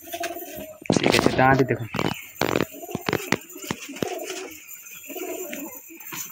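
Madrasi pigeons of Kolkata bloodline coo softly in soft, repeated murmurs at a pigeon sale, with someone talking nearby and occasional wing flutters and handling sounds.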